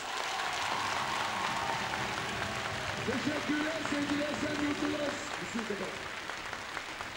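A large crowd at a Kılıçdaroğlu political rally in Esenyurt applauds steadily throughout, a continuous wash of clapping, while someone speaks briefly over it in Turkish through a loudspeaker.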